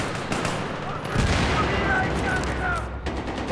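Rapid video game gunfire rattles in steady bursts through a busy firefight, loud and close, with someone talking excitedly over the shooting.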